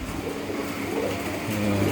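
Silver pigeons cooing inside a pigeon loft, a soft low repeated cooing that swells toward the end under steady background noise.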